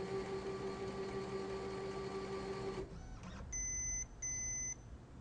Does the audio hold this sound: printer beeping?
yes